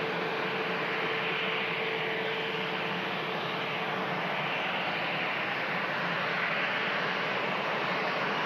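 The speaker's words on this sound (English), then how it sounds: "That's the Silver Aviation Pilatus PC-12." Pilatus PC-12 turboprop aircraft at Manchester Airport producing a steady broadband roar with a faint constant whine, heard at a distance without talk.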